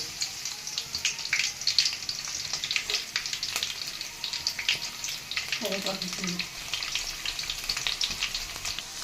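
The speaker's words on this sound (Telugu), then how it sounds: "వెల్లుల్లిపాయలు అయితే వేస్తున్నాను." Garlic frying in hot oil for a tempering: a soft, continuous crackling sizzle with small popping bursts, fairly quiet, with a brief voice-like murmur midway.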